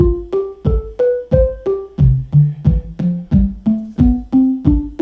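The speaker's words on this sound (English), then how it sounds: "I have a normal major scale going, which I'm going to play now with a kick drum." Synth notes from a Buchla and Tiptop Audio 258t dual oscillator step through a major scale, each paired with a punchy kick drum in a steady rhythm of about three hits per second, loud and close.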